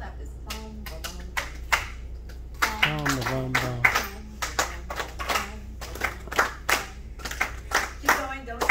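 A group in a classroom claps a habanera rhythm, sharp repeated hand claps in a syncopated pattern, with voices speaking and singing between and over the claps.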